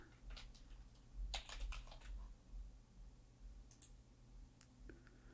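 Soft typing on a computer keyboard while entering a password: quiet, irregular key clicks in short bursts over a steady low hum.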